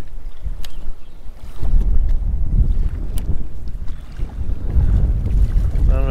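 Strong wind with occasional whitecaps buffets a fishing boat on a bass lake, producing loud rumbling gusts and microphone wind noise with splashing water, surging and easing throughout.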